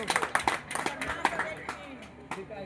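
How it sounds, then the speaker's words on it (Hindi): Audience clapping at a live Maithili devotional bhajan performance, a scattered run of sharp claps mixed with crowd talk and background voices. "सब में ताली बजा दे"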